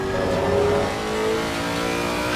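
A Lexus race car in Assetto Corsa Competizione accelerates at Monza, its engine holding a loud, steady tone that climbs slightly as the throttle comes back on, with no voice over it.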